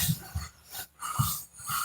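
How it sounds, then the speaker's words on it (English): Dogs pant and huff close by, heavy rhythmic breaths in short bursts with a soft whimpering edge, separated by brief pauses, no barking clearly standing out. "I really can't yell over them dogs"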